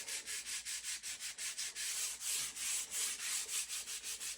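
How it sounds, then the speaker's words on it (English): Rhythmic back-and-forth sanding on a wooden axe handle, a steady series of rasping strokes close by, with no talking. "Sand that thing."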